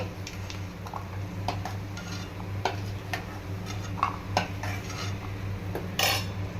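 Upma being made, with fried ingredients scooped from a pan into a bowl: a steady run of light metal spoon clinks and scrapes against cookware, close and moderately quiet, with a brighter clatter near the end and no talking.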